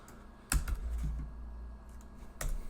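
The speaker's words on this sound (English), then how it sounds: "gotta hit Enter after typing the number in" Sharp, isolated clicks of a computer keyboard, a few keystrokes spread over a few seconds with an Enter press near the end, close and fairly quiet against a low steady hum.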